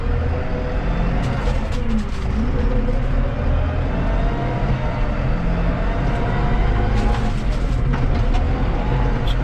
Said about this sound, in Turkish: Yalnız birinci vitesteyim şu an çok aşırı hızlı traktör.